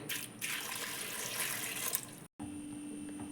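Water pours steadily into a pot of plantain set to boil, a continuous splashing stream at moderate level that cuts off briefly before a quieter hum remains.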